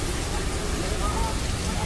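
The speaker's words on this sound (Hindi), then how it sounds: "अभी रिमझिम वाली बारिश लगी हुई है थोड़ा कम हो गई है" Light drizzling rain falling steadily outdoors near a street parking area, a soft continuous wash of patter with faint background hum, fairly close and even throughout.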